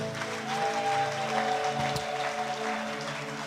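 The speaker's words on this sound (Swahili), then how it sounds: "Naomba tumshangilie Mungu kwa makofi mengi." A church congregation applauding, a continuous patter of many hands clapping at moderate volume with a faint sustained musical tone underneath.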